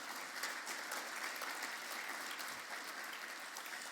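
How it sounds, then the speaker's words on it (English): Audience applause at a business plenary breakfast, steady dense clapping from a large crowd filling the whole stretch at an even level with no voice over it. "Give yourself a round of applause."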